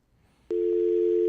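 A steady telephone tone cuts in abruptly after a faint quiet stretch on a radio call-in phone line, then holds loud and unbroken to the end once the caller is lost.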